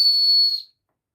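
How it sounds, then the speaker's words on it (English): A single shrill, steady blast from a survival kit whistle held for about half a second, then cut off into silence. "This is a whistle,"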